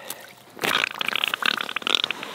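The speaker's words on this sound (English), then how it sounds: "Oh, he's burping." A northern pike caught while ice fishing burps on the ice, giving a loud, close, wet gurgling burst with rapid bubbly pulses that lasts under two seconds.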